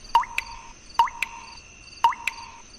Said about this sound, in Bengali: তুমি একটু দাঁড়াও আমি ওষুধটা গাছে ঢেলে দিই